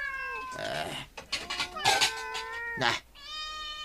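Several loud, drawn-out cat meows and caterwauls come close together, some rising and wavering in pitch, with brief pauses between calls and no talking.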